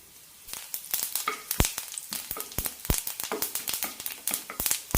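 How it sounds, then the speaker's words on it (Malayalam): Grated coconut roasting in a pan with fennel seeds, cinnamon, cloves and cardamom for a thoor peas curry, giving a soft dry sizzle punctuated by frequent sharp scraping stirs, close and fairly quiet. "കറിക്കുള്ള തേങ്ങ വറുത്തെടുക്കാം പെരിഞ്ചീരകം കറുവപ്പെട്ട ഗ്രാമ്പു ഏലക്ക കൊടുക്കാം"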